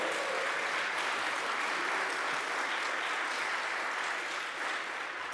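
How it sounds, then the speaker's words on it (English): Steady applause from a conference audience, dense and sustained for several seconds with no talking over it. "I think that's deserving of an applause"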